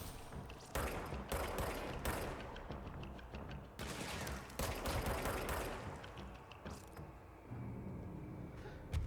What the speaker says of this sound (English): I have spent a lot of hours with the charge gun, and it never stops being fun.